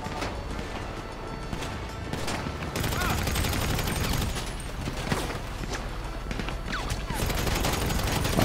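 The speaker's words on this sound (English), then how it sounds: "Oh, freaking getting shot at." Rapid bursts of automatic gunfire crackle through a GTA 5 Online drug-dealing heist, dense and continuous for several seconds with sharp clustered shots, a chaotic firefight heard at moderate distance.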